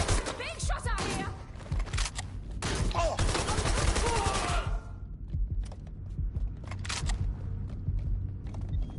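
Gunfire in the video game Watch Dogs Legion: a dense burst of rapid shots with mechanical clatter for the first few seconds, then scattered single cracks over a low rumbling game backdrop.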